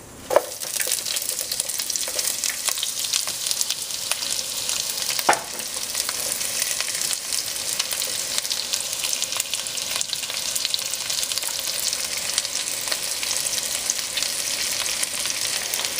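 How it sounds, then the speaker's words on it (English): Onions sizzle loudly in melted butter and olive oil in a pot, a dense, continuous crackle broken by a few stirring clicks and scrapes near the start. "I add a little bit of oil, olive oil, and add the onions"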